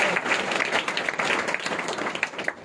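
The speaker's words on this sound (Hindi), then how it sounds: "ताली बजाकर स्टेज पर स्वागत करेंगे।" A church Christmas gathering's audience claps steadily to welcome a guest onto the stage, a dense, sustained wash of many hands at close range with no speech over it.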